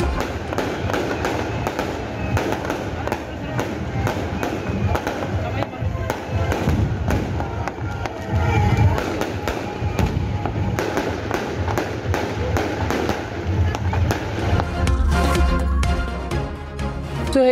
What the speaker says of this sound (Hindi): जमरूद में बाब खैबर पर आतिशबाजी का मुजाहरा।